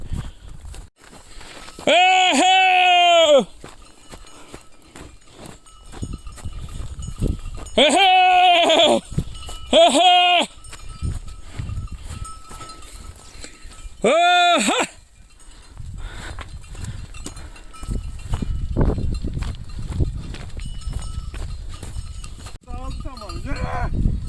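Goats bleat loudly in several bursts of drawn-out cries, with quieter rustling and background noise between them, as a herd moves through snowy mountains with a shepherd and dogs.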